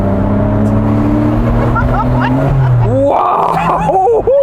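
A rebuilt Porsche engine revs hard as the car accelerates, pitch climbing steadily then dropping sharply at a gear change before rising again, loud and close from inside the car.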